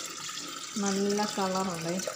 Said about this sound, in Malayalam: ഈ ജ്യൂസ് ഞാൻ ഇനി ഇതിലോട്ട് ഒഴിച്ചു കൊടുക്കുകയാണ്